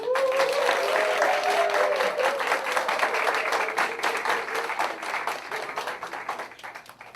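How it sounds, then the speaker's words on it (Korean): Applause for the staff at a church mission training center's opening worship service, a crowd clapping steadily and loudly at first, then gradually thinning and fading over several seconds. "그러면 스태프들에게 한번 박수를 한번."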